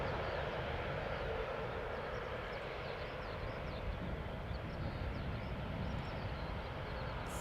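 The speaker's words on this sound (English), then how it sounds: "And the Aegean A321Neo landing on center." An Aegean Airbus A321neo jet lands at Amsterdam Schiphol Airport in humid weather, its engines a steady broadband roar that holds at the same level all the way through, with no voices.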